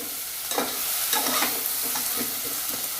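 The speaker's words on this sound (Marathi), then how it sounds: "छानपैकी वांगे तळून घालायचे वांग्याचा लगेच कलर बदललाय तेलात" Eggplant fries in hot oil in a pan, a dense crackling sizzle overlaid by repeated scraping and stirring strokes at an uneven rhythm, close and steady.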